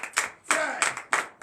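A church congregation claps in praise to Jesus during a morning prayer service, with four loud bursts of applause arriving in a steady rhythm, close and dense, each fading briefly before the next.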